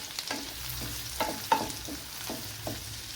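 Hot green chillies frying in a pan for a pumpkin butter garlic dish, a low continuous sizzle punctuated by several quick stirring scrapes, close and quiet with no voices.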